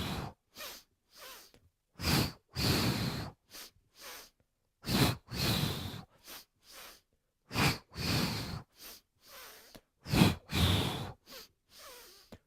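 Breaths drawn in and pushed out during a strong yoga flow session, a steady series of close, airy exhalations and inhalations alternating in a regular rhythm with short silent gaps, no talk.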